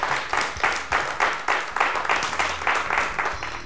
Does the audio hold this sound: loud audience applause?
yes